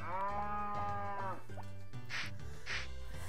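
A cow moos in the video game Harvest Moon, with a few drawn-out, rich lowing calls in quick succession, loud and close, mixed with a bright game tone and no talking.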